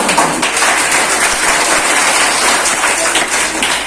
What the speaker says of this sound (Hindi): इसके लिए ताली बजना चाहिए।